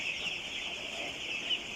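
One-week-old broiler chickens on a farm clucking and peeping softly in a continuous high chatter, faint and somewhat distant, with no voices.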